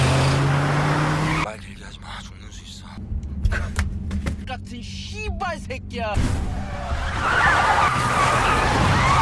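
Tires skid and squeal hard during a car chase in an action film, with bursts of engine noise and screeching under dramatic scoring and effects, loud and close, with a sharp drop in the middle before the roar returns.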